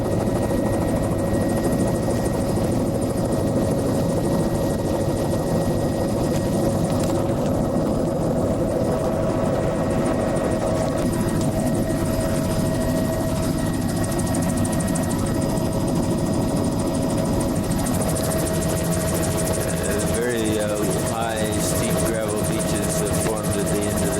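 A helicopter drones steadily overhead near Gabarus Bay for the whole stretch, its low rotor hum constant and fairly loud, with a voice speaking faintly underneath.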